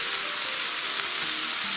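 Food sears in a hot frying pan with a steady, loud, close sizzle that holds evenly throughout. No voices are heard.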